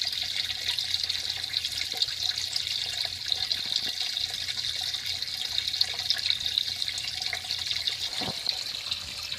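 Water trickles and splashes steadily into a sump pump pit in a basement, a continuous close hiss of flowing liquid with a faint low hum and a brief knock near the end.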